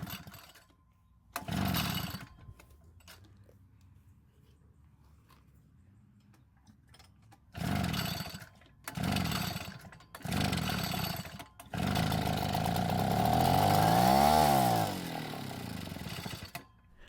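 Vintage Echo leaf blower being pull-started on the ground: several short bursts of rope-pull cranking, each a second or so long, followed by a longer sputtering attempt near the end, close and fairly loud with quiet gaps between pulls.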